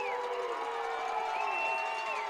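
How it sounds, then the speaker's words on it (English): Football fans at a high school game cheer and whoop from the stands, a steady crowd roar with rising shouts, heard at a distance without pause. "fans are lit up, cheering their teams on."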